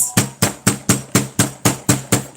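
A hammer strikes a copper cuff bracelet nine times in a steady, even rhythm, each sharp metallic tap ringing briefly before the next, close and loud.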